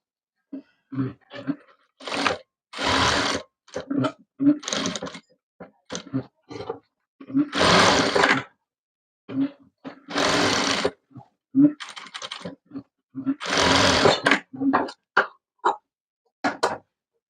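A sewing machine stitches pieces of saree fabric together while converting a saree into a maxi. It runs in repeated loud bursts of whirring stitching, some long and some brief, separated by short pauses, close up and with no talking.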